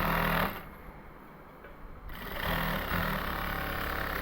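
A sewing machine stitches a zipper onto a mattress cover, running steadily and loudly at close range, easing off briefly in the middle before picking back up, with no one talking over it.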